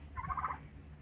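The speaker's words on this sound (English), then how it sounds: "Turkeys, I really don't want you in here." A single short, warbling gobble from a turkey, fairly faint and heard on its own against quiet background.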